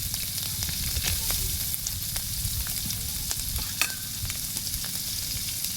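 Chicken cut into thin strips fries in a pan with a constant close hiss and crackle, punctuated by occasional sharp pops and light stirring clatter, and no one speaks.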